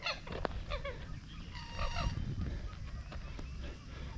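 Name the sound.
ducks calling at a lake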